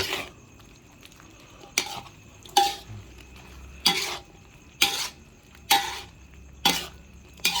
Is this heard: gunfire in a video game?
no